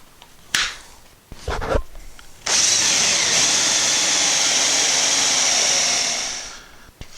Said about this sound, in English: drill a 1-inch hole